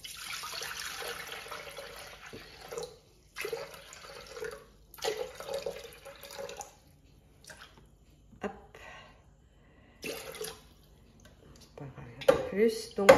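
Water being poured into a Thermomix bowl, a soft trickling and splashing that starts and stops in short runs, quiet and close, with someone talking at intervals between the pours.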